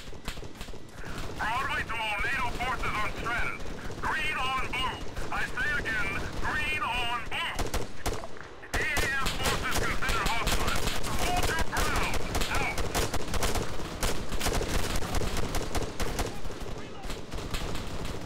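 Heavy gunfire rattles through a battle in the military shooter Arma 3, with dense continuous bursts and volleys throughout. Someone talks excitedly over the shooting in the first half.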